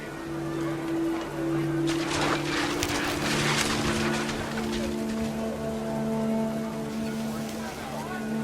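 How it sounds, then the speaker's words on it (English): Heavy rain in the video game What Remains of Edith Finch pours down around a tent during a storm, a dense hiss of falling water that swells and lingers beneath a low sustained musical tone. "The rain came down in buckets then"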